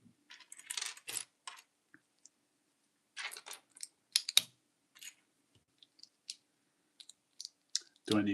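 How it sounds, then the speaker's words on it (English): Small plastic Lego bricks clicking and snapping together during a live build of a Moana Hei-Hei chicken model, in short irregular bursts of crisp clicks close to the microphone, with quiet gaps between. "Do I need to do the clicking as close to the microphone as I possibly can?"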